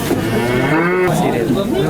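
A cow moos loudly and close by, one long drawn-out low call that wavers in pitch, with farmyard background noise.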